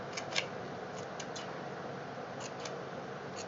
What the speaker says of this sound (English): Just going to go ahead and make some snips just to give it a little dimension.